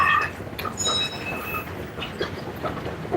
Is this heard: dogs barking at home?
no